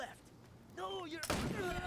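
A gunshot rings out in the video game Wasteland 3 during a headshot opener, a sharp close crack near the end of the clip following a stretch of voice.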